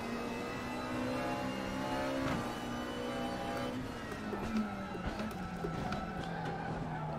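A race car in a racing video game passes by, engine tone sliding downward with tire skid noise and rising and falling revs, at moderate level with no talk.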